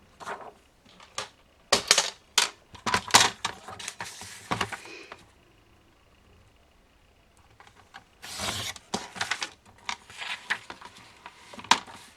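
Scissors snip through a paper template in quick clusters of crisp, close cuts, pausing for a few seconds before another run of snips, with no talking.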